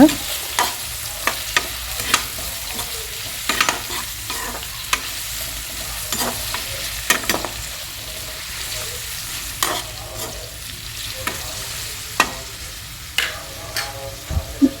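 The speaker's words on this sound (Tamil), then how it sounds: "பச்சை மிளகாய் ஆட் பண்ணிவிட்டு நல்லா வந்துட்டு வதக்குங்க" Onions and green chillies sautéing in a pan, a continuous close frying sizzle punctuated by repeated sharp scrapes and knocks of a spatula stirring against the pan, with no talking.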